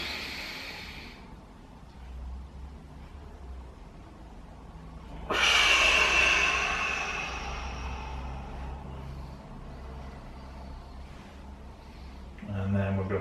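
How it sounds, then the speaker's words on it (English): A single deep breath drawn in and let out during a floor hip mobility routine. One long, close, airy exhale swells up midway and slowly fades, set against a quiet room. "Deep breath in."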